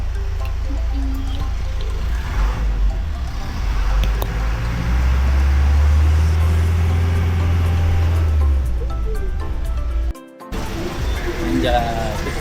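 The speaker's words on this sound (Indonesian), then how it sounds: "Kita udah di mobil menuju kereta gantung." Inside a car driving on the road, a steady low engine and road rumble runs throughout while people talk over it, with a brief dropout near the end.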